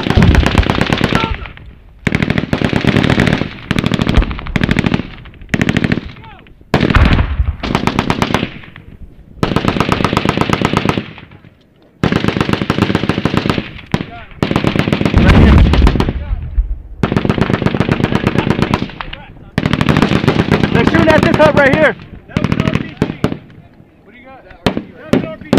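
Heavy gunfire in a firefight with the Taliban in Afghanistan: loud, sustained bursts of automatic weapons fire with short gaps, close and intense, while soldiers shout over it.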